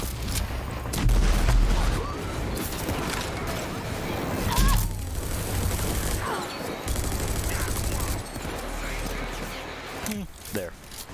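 Sustained weapon fire in overdrive mode in the shooter game Rage 2, loud rapid bursts and explosive crashes layered with game effects and music, continuing for several seconds while players talk.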